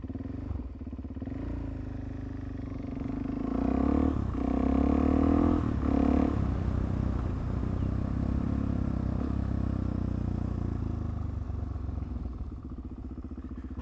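A motorcycle engine idles and revs in a steady close drone, swelling for a few seconds as the bike jerks when the clutch is pulled in, then settling back to an even hum.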